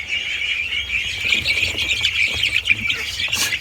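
A bantam chicken chick squawks and squeals repeatedly in shrill, rapid bursts as it is picked up, close by, with faint rustling underneath.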